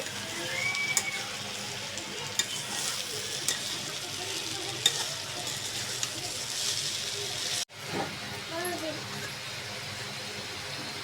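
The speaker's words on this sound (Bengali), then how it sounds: "ভালো করে নেড়ে চেড়ে আরেকটু বেঁধে নেব" Fish and vegetables sizzle and crackle in a pan while being stirred, a continuous close frying hiss with scraping clicks, a brief break near the end, and a voice speaking over it.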